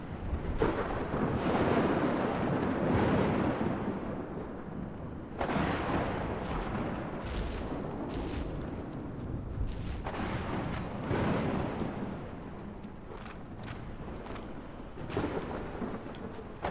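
Thunder rolls through a lightning storm in the video game Ark: Survival Ascended on the Scorched Earth map, heavy rumbling booms swelling and fading in several long waves, loud and continuous with rain-like hiss and no voices.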